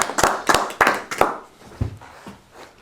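A small workshop audience claps briefly for a participant, a few sharp scattered hand claps in quick succession that fade out within a couple of seconds.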